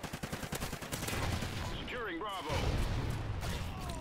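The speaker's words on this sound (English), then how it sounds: "Oh, and I get fucking sniped." Gunfire in Call of Duty Ghosts during online multiplayer: a rapid train of sharp shots opens the clip, then dense battle noise continues with other game sounds layered over it, and a voice speaks over part of it.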